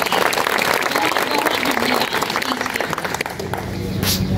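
A seated crowd at a Krishna Janmashtami gathering inside Damoh jail claps in dense, sustained applause that eases off toward the end, with a voice speaking over it.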